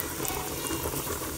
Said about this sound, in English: So guys, now I've just added garlic in it. After sauteing garlic,